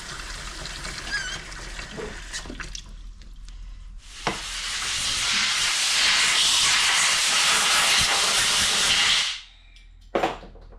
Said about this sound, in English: let's rinse this off and see what we come up with